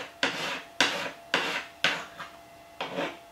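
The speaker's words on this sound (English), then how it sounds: "time to take the file and deburr all the edges" A hand file rasps across metal edges to deburr them, six distinct strokes in a steady rhythm, each a short scraping swipe that fades out, close and alone with no talking.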